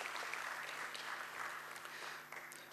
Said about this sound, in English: can we hear a huge round of applause once again as we welcome the dignitaries on